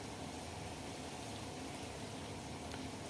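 Chopped onion frying in a pan for a home-style curry, a steady, dense sizzle that holds at an even level throughout with no talking.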